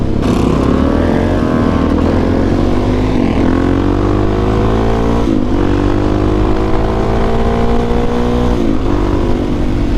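A Suzuki DRZ400 supermoto engine drones loud and close while being ridden, holding a steady high-revving roar with gradual pitch climbs through the gears.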